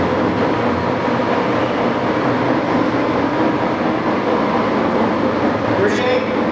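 A Sidney Model 16 lathe with herringbone headstock gears, running at 38 RPM, gives a steady low mechanical rumble and whir, close and loud, with a short higher squeak near the end.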